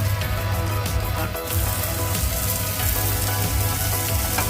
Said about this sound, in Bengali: আর 1 চামচ অলিভ অয়েল দিয়েছি, তার মধ্যে একটু জিরে ফোড়ন দিয়েছি, গোটা জিরে, আর পেঁয়াজ আর রেড ক্যাপসিকাম আর একটা কাঁচা লঙ্কা দিয়ে এটাকে নাড়ছি